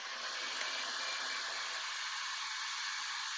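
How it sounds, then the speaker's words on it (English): A blow dryer runs steadily to push paint across a white canvas in an acrylic pour, a loud, close, continuous airy whoosh with no talking. "turn on my blow dryer"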